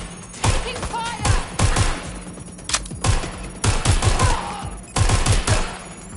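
Bursts of video-game gunfire in Watch Dogs Legion, rapid volleys of loud shots crackling in several clusters across the scene, with a voice shouting between them.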